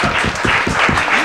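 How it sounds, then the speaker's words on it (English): Loud, dense applause from an audience at a spelling bee semifinal, a brief burst of many hands clapping close by with no talk over it. "Give them a big round of applause."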